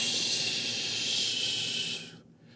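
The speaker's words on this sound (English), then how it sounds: "Exhale." A strong, steady breathy exhale during a morning yoga breathing exercise, loud and close, airy hiss sustained for about two seconds before tapering off into quiet.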